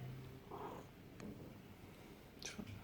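A pet cat purrs quietly close by, a low soft rumble with a few faint clicks and rustles.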